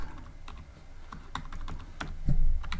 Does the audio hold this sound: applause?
no